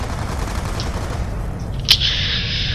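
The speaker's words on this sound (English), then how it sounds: "you see me just lighting them up with the last amount of bullets that I have" Gunfire in Black Ops 2 Zombies in town survival mode, a dense rumbling barrage of rapid low shots followed by a sharp burst and a lingering hiss.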